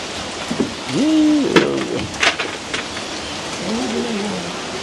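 Rain falling outdoors, a steady hissing wash throughout, with a couple of tonal calls and brief louder knocks over it, and no talking.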